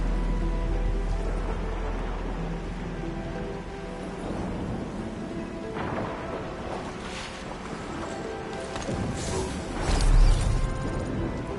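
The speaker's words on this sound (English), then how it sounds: "It's raining harder. I can't hear anything except for the rain." Heavy rain pours steadily in Arknights: Endfield, a dense continuous wash of patter close around, with a few louder splashes and faint mechanical rumbles underneath and no talk.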